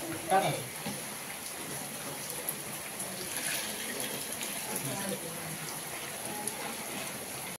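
Steady watery splashing and trickling as water is poured into a pot of mutton cooking on a wood-fired stove, continuing for several seconds at moderate level.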